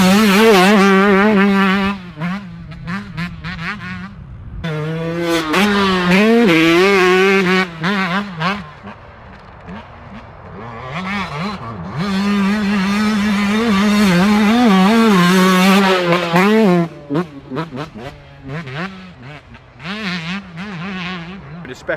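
A 2022 or 2021 Yamaha YZ125 two-stroke motocross bike revs and rides, its engine note rising and falling through gear changes, loud and close with brief drops between bursts of throttle.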